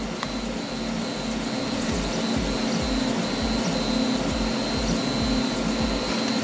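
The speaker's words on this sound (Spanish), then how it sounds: "De momento ahí veis que va imprimiendo." An E3D Nano 3D printer runs through a slow print job: a steady mechanical hum with whining stepper-motor tones and repeated short movement pulses, close and continuous.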